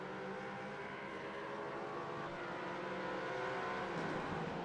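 Several GT4 race cars in a GT racing video game downshifting into a corner, layered engine tones with rising and falling revs, a continuous moderate drone without speech.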